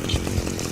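Chainsaw buzz in the violent stealth video game Manhunt, a short, dense, steady motor drone with a couple of low pulses, close and fairly loud with no talk over it.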